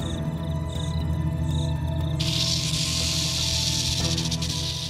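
A rattlesnake's dry, buzzing rattle runs continuously, growing into a louder, broader hiss partway through over a steady low rumble.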